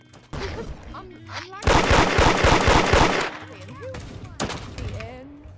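Rapid bursts of gunfire in the Roblox-style game Da Hood, with a loud sustained volley in the middle and scattered shots around it, while voices talk over the action.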